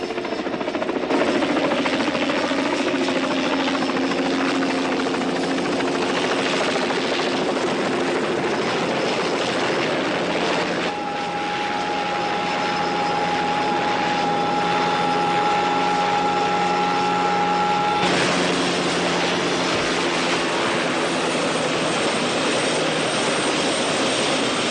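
A helicopter flies over a property and comes in to land, its engine and rotors roaring loud and continuous, with the pitch shifting and a whining tone rising and falling over nearly half a minute.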